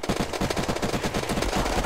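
Rapid automatic gunfire from the Unturned video game rattles on continuously, a dense run of closely spaced shots that stays loud and steady throughout, with no talking.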